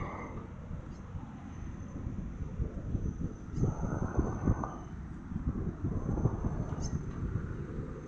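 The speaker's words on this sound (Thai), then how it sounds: "โอ้ลมพัดดีจริงวันนี้" Strong wind buffets the microphone at a high, exposed spot, with a continuous low rumbling roar that swells and gusts throughout, no voices.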